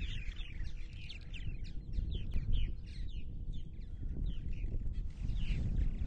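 Purple martins chatter and chirp in a steady stream near bird houses on eastern Long Island, close by, over a low rumbling outdoor background.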